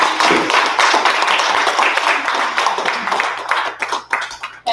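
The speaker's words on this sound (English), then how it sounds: "Can we give her a round of applause now?" An audience at a business event claps for a presenter, a loud close burst of many hands that thins into scattered individual claps toward the end.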